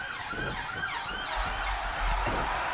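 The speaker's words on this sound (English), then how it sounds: "Do apologise for the sirens in the background there." Sirens wail in the distance, rising and falling in overlapping sweeps, with low rumbling traffic noise underneath.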